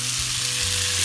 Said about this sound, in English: Now I'm on to the frying part of the other filet.